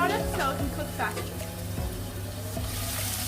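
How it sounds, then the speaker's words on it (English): Onions fry in a pan with a steady, close sizzle and a few scrapes of a spoon or spatula as they are stirred. "start with the onions, because the onions need to fry properly"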